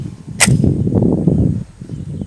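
A single sharp gunshot crack from a Glock 43X pistol rings out near the start, followed by a low rumbling murmur of background noise.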